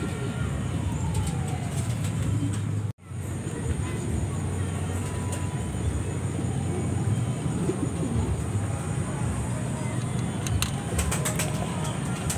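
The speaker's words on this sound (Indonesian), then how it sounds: "Amati videonya, merpatinya." Lahore pigeons coo in a low, repeated murmur, with faint chirps and a brief flutter, while someone talks over them throughout at close range.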